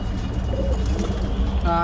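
Male and female pigeons feeding together give low, soft coos that repeat through a dense, close murmur of birds.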